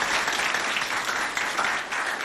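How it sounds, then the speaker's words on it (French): Schoolchildren applaud loudly together, a dense, steady burst of clapping that fills the space from start to finish. "Si vous avez aimé, applaudissez bien fort pour vous."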